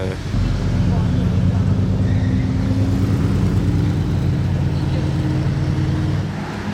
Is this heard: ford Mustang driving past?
yes